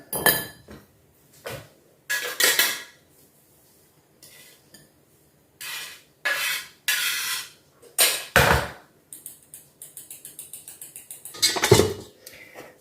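Ground almond powder and sugar sifted through a metal sieve for gluten-free macarons, heard as separate bursts of rattling and tapping, some brief and some longer, with a rapid run of light clinks near the end and no talking.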